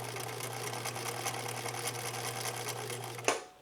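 Sewing machine running a 3-point zigzag stitch in one continuous, steady, humming run close by, ending with a sharp clunk as it stops.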